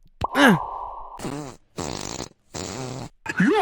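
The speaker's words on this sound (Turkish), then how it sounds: "öyle bir osurdu ki kadın fırladı" Cartoonish fart noises from a VR doctor game: a rising squeak followed by several long, loud buzzing blasts with short gaps between them and a final sputter, close and alone with no talk.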